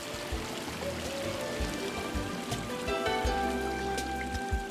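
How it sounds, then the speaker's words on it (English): Running water from a backyard pool fountain and waterfall, a continuous splashing and trickling wash with scattered droplet sounds, steady and fairly close, with no talking. "The sparkling pool, complete with fountain and waterfall, set the stage for your own oasis."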